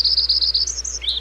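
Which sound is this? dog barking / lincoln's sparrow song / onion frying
lincoln's sparrow song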